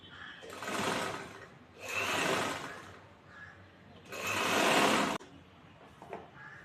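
A sewing machine stitches a chudithar seam in three loud runs of rapid whirring, each a second or so long, with quieter pauses between them and a short final burst.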